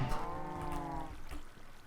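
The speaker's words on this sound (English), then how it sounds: "this is where the cows travelled up" Minecraft cows lowing in a game world, a long drawn-out moo close and loud, followed by softer shorter bovine calls trailing off amid faint background noise.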